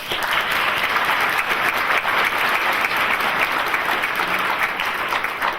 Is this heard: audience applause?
yes